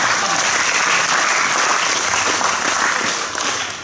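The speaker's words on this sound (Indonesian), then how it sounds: "Tepuk tangan." Audience at a youth talk in a church setting breaks into loud, dense applause, close and sustained, fading slightly near the end.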